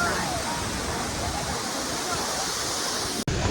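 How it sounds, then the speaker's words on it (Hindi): Roar of the Manthoka waterfall in northern Pakistan, a steady, dense broadband rush close by that holds without pause except for one instant dropout near the end. "क्या वाटरफॉल है, सुभान अल्लाह तेरी कुदरत।"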